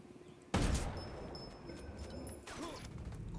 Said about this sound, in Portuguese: De onde que veio esses tiros?